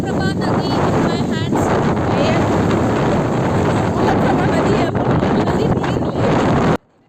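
Strong wind buffets the microphone on a riverbank, a loud continuous roar with gusts throughout that cuts off abruptly near the end; a voice can be heard faintly in the background.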